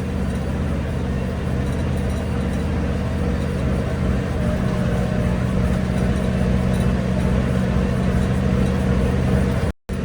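A Lovol 1304 tractor engine drones steadily and close up while cultivating a field, keeping a constant low, loud rumble that cuts off abruptly at the very end.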